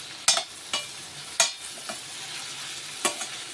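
A spoon scrapes and knocks against a pan a few separate times while brinjal fries with turmeric powder, with sharp distinct stirring strokes over a faint sizzle and no talking.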